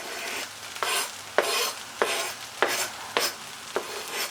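Green onions hiss and sizzle in a hot pan while a utensil stirs them in repeated scraping strokes, about six close, steady pushes over the frying, with no talking.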